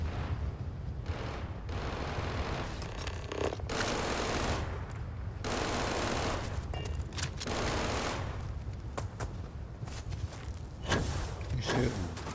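Repeated bursts of distant gunfire and volleys in a combat video game, moderately loud and irregular across the scene, with sporadic voices.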